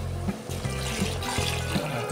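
Hot water pours into an idli sambar mixture in a pressure cooker, a close continuous splashing stream with gurgling pulses.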